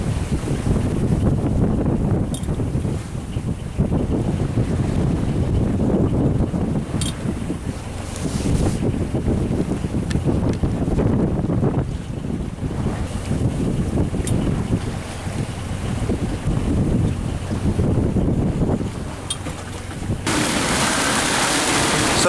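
Strong wind roars across a sailboat's microphone far offshore on a solo passage, with a steady gusty rush and low rumble throughout, briefly easing and then surging again, and a harsher blast near the end.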